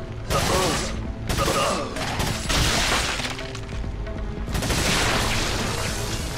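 Rapid bursts of gunfire with crashes and shattering from the video game Resident Evil 4, loud and dense, several volleys in close succession with brief gaps.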